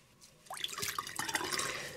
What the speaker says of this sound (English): I'm gonna pour this all out